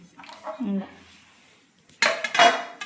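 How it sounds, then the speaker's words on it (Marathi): Someone speaks briefly, then a pan clatters loudly and busily for about a second as chigal greens are tossed and roasted with garlic and red chili. "आता भाजी भाजून घेते"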